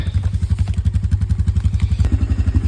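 A four-wheeler ATV engine chugs close by in a steady, rapid rhythmic thumping at low revs, loud and continuous with some mechanical clatter.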